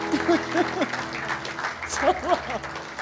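Church congregation applauding in worship, a dense wash of clapping mixed with voices calling out, continuous and fairly loud.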